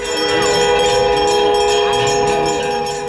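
Temple bells ring out with sustained metallic tones alongside the steady drone of a conch shell, a continuous, fairly loud devotional sound with faint voices in the background.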